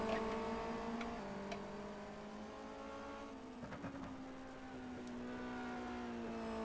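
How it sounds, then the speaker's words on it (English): Renault Megane race car engine in a racing video game, a fairly quiet, steady, high-revving drone with brief dips at gear changes, heard alone with no talk. "The engine sounding a little bit weak there as he exits spoon"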